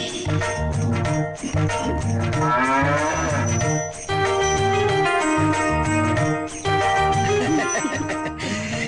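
A cow moos loudly in several long, drawn-out calls one after another, close by, with no talking.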